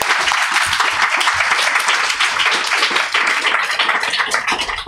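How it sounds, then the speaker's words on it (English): A crowd applauding steadily, dense sustained clapping from many hands that fills the whole stretch, loud and continuous. "please join me in a round of applause for all the students"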